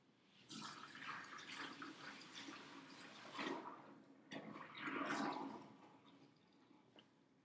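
Sanitizer liquid is poured out of a brewing pot while bottling homebrew beer, splashing and gurgling in two close bursts separated by a short pause, then trailing off into drips.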